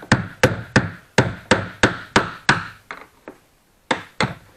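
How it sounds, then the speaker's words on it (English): Hammer blows on a flathead screwdriver tapping the ridged retaining ring of a fuel pump on a Ski-Doo REV XR 1200 snowmobile: about a dozen sharp metallic knocks in a steady rhythm, close and loud, with a brief pause near the end. "just use a flathead screwdriver and a hammer"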